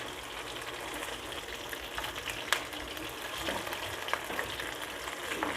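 Chicken pakoda pieces fry in hot oil, a steady, fairly quiet bubbling sizzle with a couple of faint pops and no voices.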